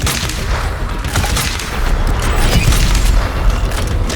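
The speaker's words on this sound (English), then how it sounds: "Still got that lovely bottle cap popping sound when you shoot their heads off." Loud, dense gunfire in DOOM Eternal as demons' heads are shot off with a sharp bottle-cap pop, in rapid bursts layered over heavy booms and continuous combat noise, with no talking.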